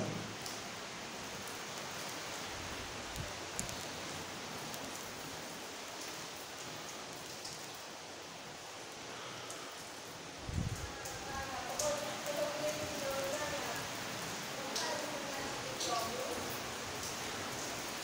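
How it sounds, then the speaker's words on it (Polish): Heavy rain at a church in Górsk, a steady hiss of falling water on surfaces with a brief thump near the middle, while someone talks quietly over it. "dawno takiego deszczu nie było w tym roku"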